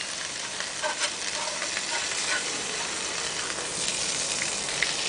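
Hamburgers fry on a deadwood stove outdoors, giving a continuous close sizzle with crackling spits and a few faint clicks, no voices.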